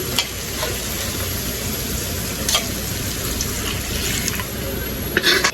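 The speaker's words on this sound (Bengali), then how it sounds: "এখন আমি জল দিয়ে দিব" Water goes into a hot pan of magur catfish curry, giving a dense, steady hiss and sizzle that fills the whole moment, with a few clinks of a utensil near the end and no talking.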